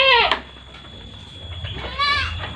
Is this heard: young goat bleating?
yes